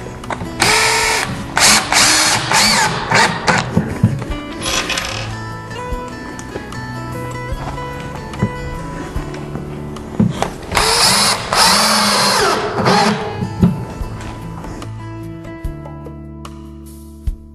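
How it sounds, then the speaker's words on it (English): Power drill driving 1¼ inch screws into the crown of a Murphy wall bed, with several bursts of whirring drill noise spread through the clip and no talk. "I'm going to attach it the exact same way with the 1¼ inch screws."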